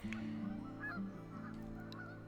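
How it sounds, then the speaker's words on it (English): Geese honking at a horse ranch, several loud nasal calls in quick succession, some overlapping, with no talk. "Are there geese?"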